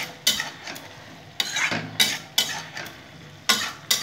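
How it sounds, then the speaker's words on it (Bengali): Spice masala is sautéed in a pan for a sola kochu (taro stem) curry, with repeated bursts of spoon scraping and sizzling that come in a loose rhythm of strokes separated by quieter moments, close and fairly loud. "ভালো করে কষে নেব।"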